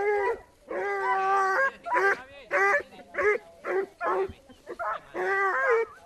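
A Blue Gascony Griffon hunting dog bays on a wild boar trail, giving a series of loud, drawn-out, tonal howling barks in uneven bursts with short gaps between them.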